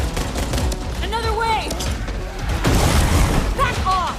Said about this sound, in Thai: เสียงปืนเสียงการต่อสู้ที่สะใจสุดๆ